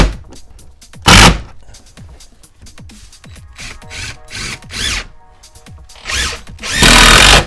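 A power drill with a star bit drives construction screws into wood to hang a storage unit, several loud bursts of motor whine and grinding separated by clicks and handling noises.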